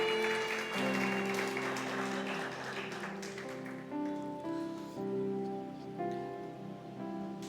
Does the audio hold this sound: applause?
yes